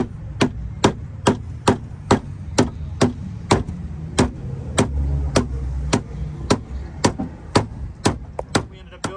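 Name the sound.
mallet tapping Jeep Wrangler battery terminals into place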